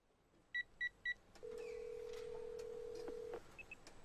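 Phone dialing in the video game Ace Academy: three quick electronic keypad beeps, then a steady two-second tone, then a couple of faint blips, all clean and close.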